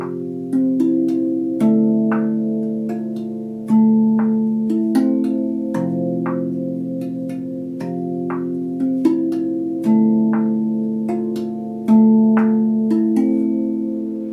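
A RAV Vast handpan tuned to F Ariumi plays a melodic pattern of single struck notes, each ringing with warm sustained overtones, the strikes coming at a steady, unhurried pace, close and clear with no talking.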